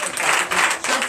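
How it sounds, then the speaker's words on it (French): A church congregation applauding, a dense wash of many hands clapping at once that fills the whole short moment. "Donnez de vives acclamations."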